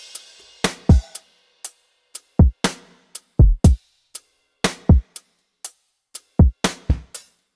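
Programmed drum pattern and percussion loops built in Ableton Live 10 with Drum Lab for an R&B beat, heard alone: punchy low kicks with sharp snare and clap hits in a steady, sparse groove with light high percussion ticks.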